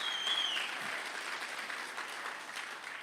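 Applause from a congregation at a Dutch-language church service, moderate and fairly distant, a steady patter of clapping that slowly tapers, with no speech over it.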